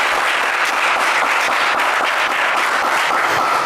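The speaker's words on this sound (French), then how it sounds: "on vous applaudit quand même très fort" Steady, dense applause from a French-language TV game show studio audience, loud and sustained throughout the short stretch with no voices over it.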